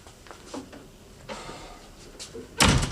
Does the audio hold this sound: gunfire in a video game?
no